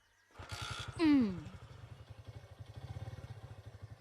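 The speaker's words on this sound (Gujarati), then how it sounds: "અરે બાઇક ચાલુ થઈ ગઈ." A motorcycle engine catches and settles into a steady, close idle with rhythmic low putters, with a brief louder rev or shout near the start and voices around it.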